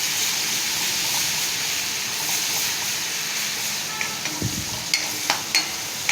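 Chili garlic paste frying in hot oil in a kadhai, a steady close sizzle with stirring, joined near the end by a few sharp clinks and scrapes of a spoon against the pan.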